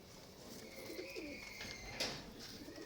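A pigeon gives soft cooing calls, a couple of brief low coos amid quiet outdoor background noise, with a faint chirp near the end and no speech.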